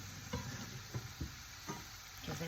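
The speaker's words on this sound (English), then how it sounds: "Give that a stir." Chopped, de-seeded tomato is stirred into a sizzling pan with olive oil, garlic, anchovy and rosemary, giving a soft constant fry with a few quiet scraping stirs, close and faint.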